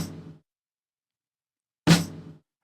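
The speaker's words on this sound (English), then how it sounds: "a channel I've created that has a snare loop playing through it" A snare drum loop played back through a mixer channel, heard as two sharp, bright hits a couple of seconds apart, each ringing out briefly before silence.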